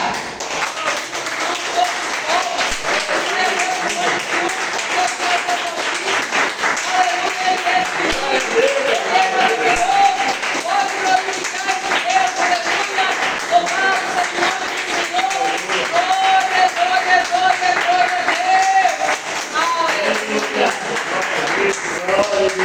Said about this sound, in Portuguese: Vamos ficar de pé para aplaudir o nosso Deus.